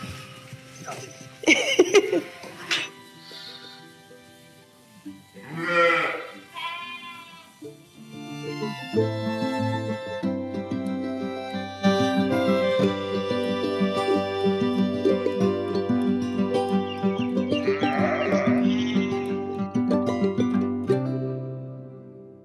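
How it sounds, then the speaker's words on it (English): Sheep bleating in a pen: a few loud, wavering bleats near the start, then music fades in and plays steadily for the rest, with a further faint bleat partway through. "He's a funny looking sheep. I got some weird ones here."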